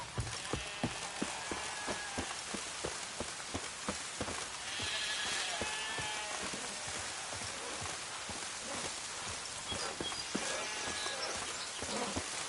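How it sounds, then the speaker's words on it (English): Rain falls in The Witcher 3 as a steady, soft hiss of drops, with a horse's rhythmic clip-clopping hoofbeats running through it the whole time. "Looks like rain."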